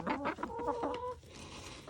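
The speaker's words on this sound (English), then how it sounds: "Happy chickens. Happy, happy chickens." Backyard chickens cluck and chatter up close in a quick burst of short calls, then the flock quiets to soft background noise.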